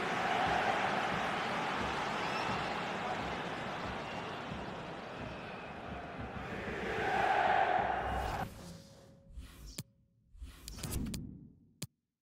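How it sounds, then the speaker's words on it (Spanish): Roaring stadium crowd at an Italian Serie A football match giving an ovation for the goalkeeper, a broad sustained swell that builds, then breaks off into scattered noises and sharp knocks near the end. "Ovación para el arquero."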